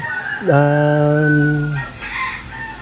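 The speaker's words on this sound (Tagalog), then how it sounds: "Dahil nakikita mo yung manok ko dito." A single loud rooster crow on a farm in Houston, close by, one long drawn-out call that fades into quieter background noise.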